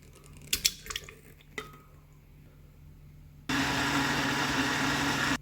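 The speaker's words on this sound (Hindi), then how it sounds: "एक मिनट के लिए मैंने ब्लेंडर चलाया है" A blender starts abruptly after some clinking and stirring, blending cooled tomatoes into puree, then roars at steady, loud, broadband volume for the remaining couple of seconds.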